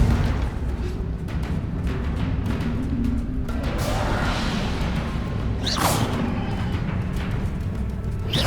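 Confringo spell blasts from Hogwarts Legacy whoosh and boom in a steady barrage of fiery impacts, with sharper crackling bursts near the middle and end over a continuous rumbling game soundscape.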